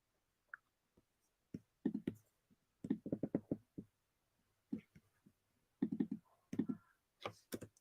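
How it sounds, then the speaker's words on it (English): Someone types on a computer keyboard in a quiet room, producing soft, irregular clusters of clicks and taps with short pauses between bursts. "I'm typing."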